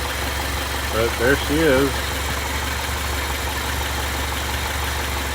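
International Scout 80 engine idling as it warms up, a steady low rumble throughout with someone briefly talking over it near the start.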